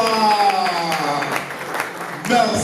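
Cheers and clapping from a concert crowd welcoming a performer at a music show, a lively mix of shouts and hand claps layered with voices and a tonal sound, swelling again near the end.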